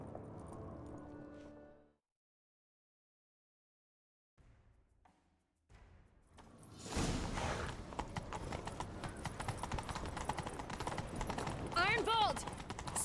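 Horses galloping in a video game, rapid rhythmic hoofbeats building from near silence into a loud, continuous clatter, with a horse whinny and scattered voices over it.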